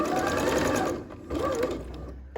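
A sewing machine stitches elastic into a skirt waistband, its rapid, steady mechanical whir close and loud, slowing briefly before running again.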